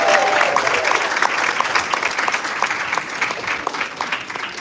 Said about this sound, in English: You can clap for each individual, though.